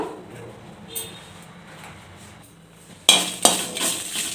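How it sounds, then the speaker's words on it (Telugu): Dried red chillies tipped into a hot pan to dry roast without oil; after quiet faint rustling, a loud clattering rush of chillies hitting the metal is followed by a second clink and a light crackling toss. "ఇప్పుడు ఎండుమిర్చి వేసేసుకుందాము సిమ్లో పెట్టే వేయించుకోవాలి ఆయిల్ వేయటం లేదు"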